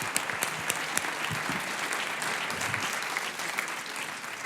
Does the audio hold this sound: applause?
yes